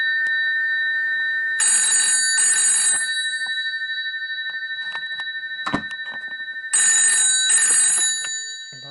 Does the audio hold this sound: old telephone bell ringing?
yes